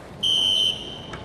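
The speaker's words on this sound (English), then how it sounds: "Maybe I can pull the fire alarm." A pulled fire alarm sounds a short, shrill electronic tone, loud and steady for about half a second before cutting off, with no voices.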